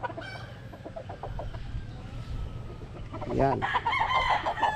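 Young stag roosters, a Gilmore Hatch and Machine Kelso cross, cluck in short rhythmic bursts, then one crows loudly near the end, with a faint voice briefly underneath.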